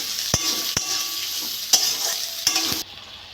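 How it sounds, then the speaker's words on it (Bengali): Carrots frying with onions in a pan for flour chow mein, a steady close sizzle broken by several sharp scrapes and clinks of a stirring utensil against the pan, no talk. "গাজরগুলো দিয়ে দেবো গাজরগুলো ভেজে নেবো"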